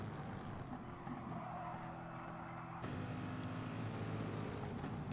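Race car engine droning steadily in Gran Turismo Sport during an online club series race, a tonal mechanical note that shifts pitch partway through as the car loses grip in a big oversteer.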